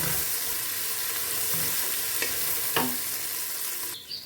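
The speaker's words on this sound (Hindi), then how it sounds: "अब इधर हम लहसुन अदरक डाल के इसको 1 मिनट के लिए हमने भून लेना है" Garlic and ginger fry in a pan for a beef masala, giving a steady close sizzle with occasional stirring scrapes and clinks, and no talking.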